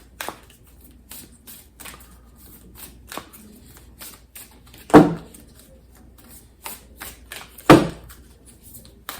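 Moonology oracle cards being shuffled by hand, giving soft papery riffles and flicks with a few sharper slaps, close and quiet, with no talking.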